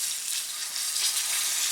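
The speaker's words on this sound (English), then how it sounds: "Joe's frying up some fish." Walleye fillets frying in a pan over a campfire, a steady close hiss of sizzling oil that holds at an even level throughout, with no voices.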